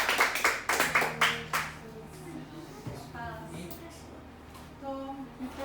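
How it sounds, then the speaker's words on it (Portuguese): Church congregation clapping in rhythmic bursts, with a voice and a sustained musical tone underneath; the claps fade after a couple of seconds, leaving singing-like tones. "Aplaudam o nome do Senhor, porque Ele vive para sempre."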